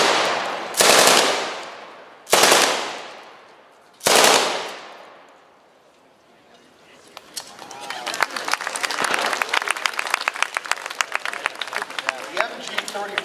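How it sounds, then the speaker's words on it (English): A German machine gun fires in an outdoor weapons demonstration: three loud, separate bursts ring out with decaying echoes, followed by a long, denser stretch of rapid fire and crackling. "The German, when you fire a machine gun, unlike what you see on Hollywood, you cannot sustain the fire of the machine gun."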